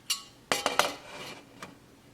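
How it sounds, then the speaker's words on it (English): A metal lid goes onto a pot of freshly boiled milk with several quick clinks and clanks, one bright knock followed by a cluster of rattles and a final light tap, close up with no voices. "And now we're going to cover it with the lid."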